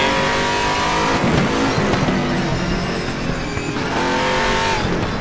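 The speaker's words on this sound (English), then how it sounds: "I try to ease around the corners and hit the brakes on these harder corners here" Race car in RaceRoom Racing Experience, engine roaring and revving continuously while tires squeal and scrub under braking through corners, loud and close with pitch dipping and rising between bends.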